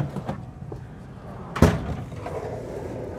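A full-extension kitchen drawer in a 2023 Newmar RV is pulled and pushed, producing soft rolling movement and then one sharp thump as it shuts, heard close amid faint room noise.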